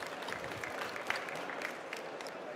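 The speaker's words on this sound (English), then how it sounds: "Big applause for you, Manuel." Audience applause at the close of a presentation on an industry stage at a trade fair, steady moderate clapping from a crowd that sounds somewhat distant and fairly quiet throughout.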